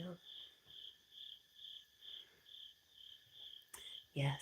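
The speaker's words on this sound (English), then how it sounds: "Yes, the crickets." Crickets chirp at night in a rhythmic, pulsing trill that repeats about once per second, quiet and steady, with brief handling or movement sounds near the end.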